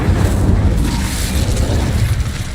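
An Incendio fire spell cast in Hogwarts Legacy gives a loud, continuous roaring burst of flame with heavy low rumble, sustained throughout.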